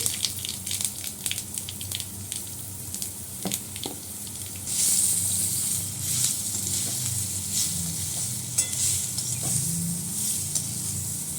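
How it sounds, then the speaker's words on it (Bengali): Chopped elephant apple (chalta) dropped into hot oil with a mustard seed tempering, giving a steady close sizzle with scattered stirring clinks and a brighter hiss that swells midway and holds. "সর্ষে ফোড়ন দিয়ে দিলাম, চালতাটা দিয়ে দিচ্ছি"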